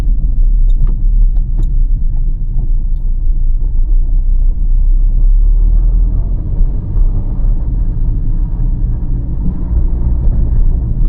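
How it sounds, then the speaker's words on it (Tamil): Maruti Celerio car accelerating on a city road at night, a steady loud engine and road rumble from inside the cabin with a few faint rattles. "இந்த செலீரியோவுக்கு ஸ்பீடு விட்டுடலாம்."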